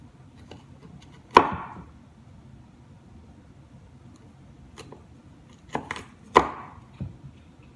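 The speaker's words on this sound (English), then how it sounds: "These, I want them to be kind of big, so I'm gonna cut them long ways." A knife cutting onions lengthwise into long rings on a cutting board, heard as two crisp chopping knocks, the first one early and the other later after a pair of lighter taps, close and otherwise quiet.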